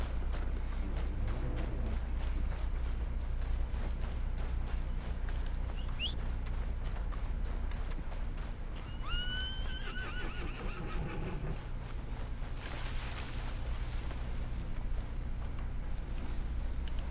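Horse hooves clopping and a horse neighing in the Western open-world game Red Dead Redemption 2, heard over a steady low ambient bed with a couple of brief whinnies in the middle.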